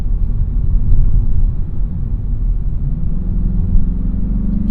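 A 2021 Mazda 3 Turbo hatchback cruises along a scenic Kentucky road, its engine and tyre rumble a steady, loud low drone heard from inside the cabin with no talk.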